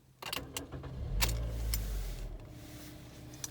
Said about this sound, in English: then you're gonna start the car like that